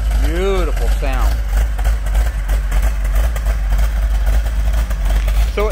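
A 1970 Plymouth Cuda V8 runs with a loud, deep steady rumble, while someone talks over it near the start.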